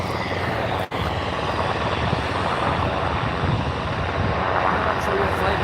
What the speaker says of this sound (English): The engines are on.